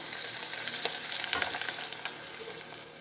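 Cooked beans drop into a pan of browned bacon and soft onion, and the hot fat answers with a brisk sizzle and scraping stirs that peak briefly, then settle into a continuous fry.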